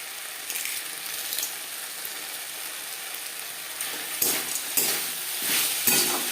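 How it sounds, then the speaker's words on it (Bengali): Khesari greens and lentil nuggets being stirred in a hot pan: a continuous close sizzle with scraping strokes of a spatula, growing busier toward the end. "শাকের সাথে বড়ি বেশ ভালো করে মিক্স করে দেবো।"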